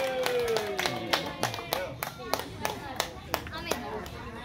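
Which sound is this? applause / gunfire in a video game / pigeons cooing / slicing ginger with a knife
applause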